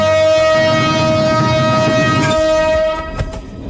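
A loud, sustained train horn blares over rumbling rail noise, then fades as the clatter of the moving train continues.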